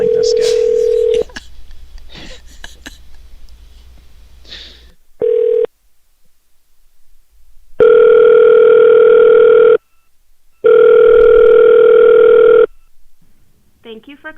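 A telephone line plays a steady dial tone, cut by brief keypad beeps and then two long loud ringback tones with gaps between them, and some muffled talk and music are heard early on.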